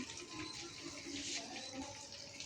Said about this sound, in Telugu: ఇప్పుడు నీళ్ళు తీసుకెళ్ళి ఇదిగోండి మొక్కలకి ఆకుకూరలు చూస్తారా